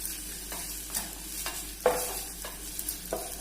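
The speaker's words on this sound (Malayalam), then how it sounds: "ആ ഇഞ്ചിയുടെ പച്ചമണമൊക്കെ ഒന്ന് മാറുന്ന വരെ നമ്മൾ ഇതുപോലെ നന്നായിട്ടൊന്ന് വഴറ്റി കൊടുക്കണം" Chopped ginger sautéing in a pan for vadukapuli pickle, a soft steady sizzle broken by periodic scraping strokes of a spoon stirring roughly every half second, close and moderately quiet.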